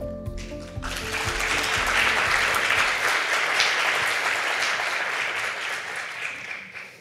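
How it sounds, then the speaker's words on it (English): A room full of listeners at a Bank of Korea seminar breaks into warm applause as Agustín Carstens of the BIS comes to the podium, following a brief spoken introduction, then holds steady before fading out. "Please welcome him with a warm round of applause."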